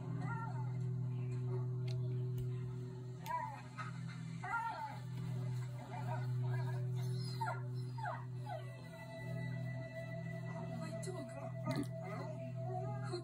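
A dog whimpers and yips in A Plague Tale: Innocence, with soft, high whines scattered over a low, steady hum. A voice talks faintly in places.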